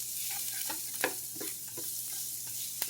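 Garlic sautéing in a pan, a steady close sizzle with a few sharp scraping stirs of a utensil spaced through it, no voices.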